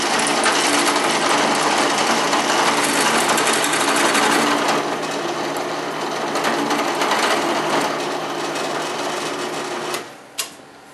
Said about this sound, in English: get a big drill bit and drill down in there to see if that'll loosen it up some